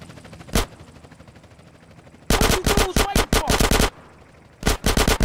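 Bursts of automatic gunfire ring out in Grand Theft Auto San Andreas Definitive Edition, a single shot first, then rapid volleys in dense clusters, loud and close, alone without talk.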